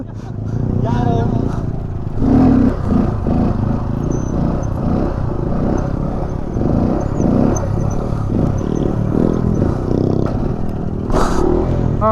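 A motorcycle pulling wheelies outside a mall revs and roars up close for the whole stretch, its engine note rising and falling under excited shouting voices, with clattering and scraping noises mixed in.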